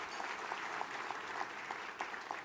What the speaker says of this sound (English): I want to take a minute just to thank the ambassadors with a round of applause.